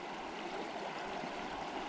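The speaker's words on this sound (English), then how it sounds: "Now when I swish the water back and forth," Water swishes back and forth in a gold pan, a soft, continuous sloshing and trickling close by with no voices over it.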